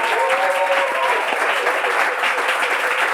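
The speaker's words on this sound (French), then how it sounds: "On les applaudit quand même très fort." Loud, continuous audience applause at a French Bible quiz game show, dense clapping filling the whole stretch without letup.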